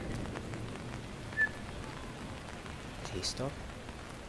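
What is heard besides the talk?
heavy rain falling on a rainy day walk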